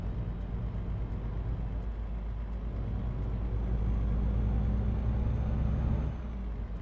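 Steady low drone of a truck engine in Euro Truck Simulator 2 with the default engine sound, a constant rumble with faint ticking that swells slightly near the end, no talking.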